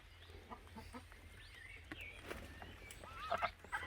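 Chickens cluck and murmur softly nearby in a farmyard pen, with scattered short calls rising toward the end over a faint low background.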